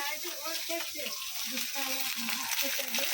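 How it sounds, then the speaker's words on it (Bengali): Half-fried fish sizzles and spits in hot oil in a pan, heard close up as a constant crackling hiss with small pops and stirring scrapes throughout, with no talk. "মাছটা অর্ধেক ভাজা হয়েছে"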